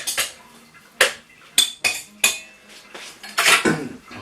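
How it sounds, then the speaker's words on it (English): A knife breaking up a lumpy mixture in a bowl for a homemade breakfast muffin, with repeated sharp scrapes and knocks of metal on the bowl at an uneven pace, close and clear with no talk. "So I'm just going to use a knife just to start it separating."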